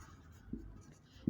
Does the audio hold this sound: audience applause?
no